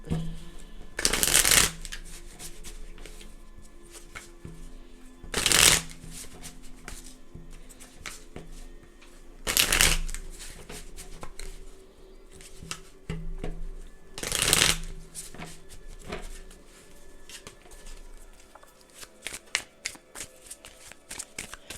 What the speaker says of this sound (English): Actually, let me shuffle these. Let's shuffle them good.